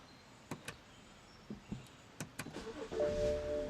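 A 2009 BMW 328i coupe gives a few sharp interior clicks and thumps, then its engine turns over and settles into a rising hum as the seatbelt presenter motor whines steadily, close and fairly quiet.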